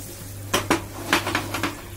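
Green chillies for an instant green chilli pickle are tossed in oil in a pan, with several close metallic scrapes and clinks over a light sizzle.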